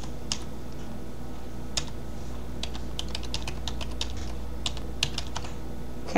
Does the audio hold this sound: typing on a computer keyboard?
yes